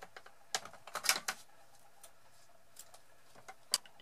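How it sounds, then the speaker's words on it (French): Scissors cut a length of ruched ribbon for a handmade accordion card, heard as a few sharp, close snips and light clicks spaced irregularly over a quiet background. "je vais prendre mon ruban ruché, je vais en couper"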